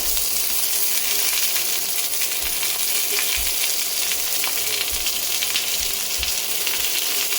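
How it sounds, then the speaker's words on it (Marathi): Sliced onions frying in oil in a pan for a village-style mutton curry, giving a steady, loud, continuous sizzle with faint crackles throughout and no voices. "आणि हा कांदा आपल्याला छान असा ब्राऊन होईपर्यंत भाजून घ्यायचा आहे."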